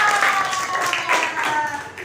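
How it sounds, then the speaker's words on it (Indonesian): An elementary school class claps for a student, with dense, continuous applause mixed with voices and a faint tonal sound, close and moderately loud. "Tepuk tangan untuk pramudia"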